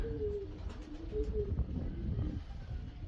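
Soft, low pigeon coos repeat in slow rolling phrases, close by, over a steady outdoor background rumble.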